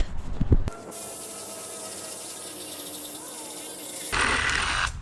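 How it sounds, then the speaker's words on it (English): A cordless Craftsman reciprocating saw with a dull blade and a drained battery buzzes steadily through a small tree stump for several seconds, its motor sounding strained and weak, with a louder burst of cutting noise near the end. "let's see if I could cut that with the Sawzall"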